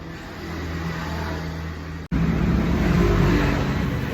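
A custom motorcycle from a friend's workshop revs hard on a dyno during fuel mapping, a steady loud engine drone that cuts out for an instant midway, then surges back louder and rougher.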